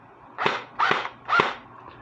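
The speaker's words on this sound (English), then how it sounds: "So it's dry firing it." Three sharp mechanical snaps from an airsoft Thompson electric SMG dry firing in semi-auto, evenly spaced about half a second apart, close and fairly loud, with no talking.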